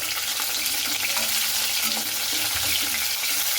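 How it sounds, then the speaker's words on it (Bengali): Fish fry in oil in a pan, turned to brown the second side, with a steady close sizzle, light crackles and a few soft stirring scrapes, no voices. "এই পিঠটাও আমি খুব ভালো মতো করে লাল লাল করে ভেজে নিচ্ছি"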